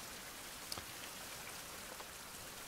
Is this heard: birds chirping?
no